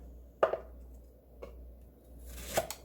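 A knife slicing through a peeled pear half on a kitchen board, giving three soft, close, separate cuts spaced about a second apart in a quiet room.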